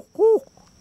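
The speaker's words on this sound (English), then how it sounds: "That's the great horned owl." A great horned owl perched high in a cypress tree gives a single short, fairly loud hoot, rising and falling, followed by a quiet pause.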